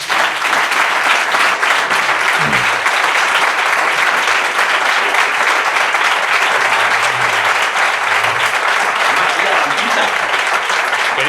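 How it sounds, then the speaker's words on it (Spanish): A studio audience gives a long, loud round of applause to welcome a guest onto a podcast set, with constant dense clapping and occasional voices under it. "Así que recibamos con un fortísimo aplauso"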